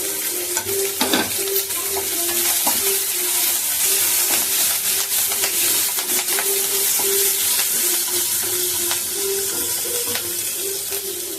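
Green and dried chillies fry and sizzle in hot oil in a pan while uppu urundai snacks are cooked, with a continuous close hiss broken by occasional stirring scrapes and spatters.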